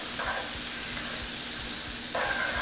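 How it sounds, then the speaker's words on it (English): Butter sizzling as it melts in a hot sauté pan, a steady bright crackling hiss that runs throughout, with brief scraping or stirring sounds rising now and then. No voices. "Want to hear a nice happy little sizzle when you drop it in there."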